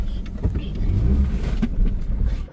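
A car pulling into a parking spot at the Mall of Dehradun, its engine humming and rising slightly as it moves, then cutting off at the end.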